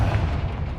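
A Confringo spell explodes in the Hogwarts Legacy video game as a loud, sustained booming blast with a deep rumbling body that fills the short moment.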